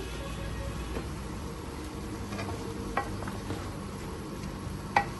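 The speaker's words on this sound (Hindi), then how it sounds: "सारी चीजों को अच्छे से मिक्स कर लेंगे।" Tomatoes, yogurt and spices being stirred into beef in a pot for achari gosht, with soft scraping strokes over a low sizzle and a few sharper knocks of the spoon, no talking.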